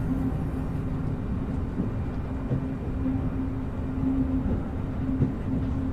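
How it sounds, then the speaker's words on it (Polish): Cab ride in a BR 187 TRAXX 3 electric locomotive in Train Simulator Classic, with the wheels grinding on the rail head: a steady rolling rumble carrying a faint, sustained metallic whine throughout, with no talking. "Słychać nawet piłowanie główki szyny, jak siedzimy w kabinie."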